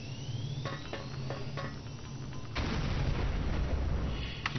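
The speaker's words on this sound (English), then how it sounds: "Have a grenade." A grenade explodes in the video game Doom 3, a sudden loud blast that cuts in midway after quieter game ambience and leaves a dense rumbling roar.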